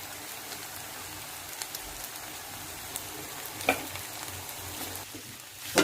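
Noodles cooking in a pan with tomato sauce and masala, a soft, steady sizzle like light rain with a few faint taps of utensils, close but quiet, no talk.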